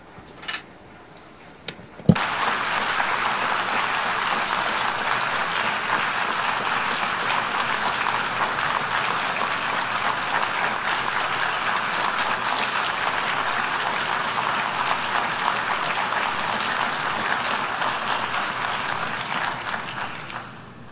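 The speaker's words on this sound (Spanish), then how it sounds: "Un aplauso sostenido para el primer ministro de Israel en la Asamblea General" Sustained applause fills a large General Assembly hall for Israel's prime minister, a dense, steady roar of clapping that begins abruptly after a brief quiet lead-in and continues loud and unbroken to the end.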